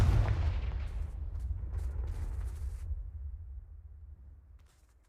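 A Confringo fire spell explodes in Hogwarts Legacy, a loud, deep boom that rumbles and crackles for several seconds before fading away.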